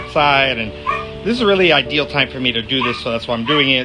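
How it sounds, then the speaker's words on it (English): A neighbor's dog yips and whimpers in short, high, rising calls that run under and between a person talking close to the microphone. "I apologize for my neighbor's dog barking"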